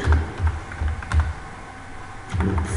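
Rapid clicking of a computer keyboard while a Python for loop is typed, in short irregular bursts of close, crisp keystrokes with a brief pause in the middle.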